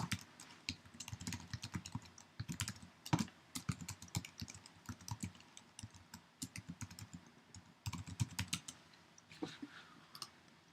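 Close, quiet typing on a computer keyboard to enter a username and password, with irregular bursts of key clicks and short pauses between runs of keystrokes.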